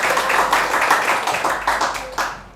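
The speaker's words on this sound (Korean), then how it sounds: "다시 한번 하나님께 영광의 박수 올려드립니다." Church congregation clapping together during a Sunday worship service, a close, lively burst of rhythmic hand claps from many people that tapers off within a few seconds.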